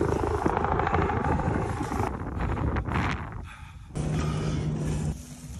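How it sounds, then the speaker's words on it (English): A helicopter arrives at a cold New York waterfront during a whale rescue, heard as a steady rotor and engine rumble mixed with heavy wind buffeting, with its tone shifting as it approaches. "Here comes the helicopter."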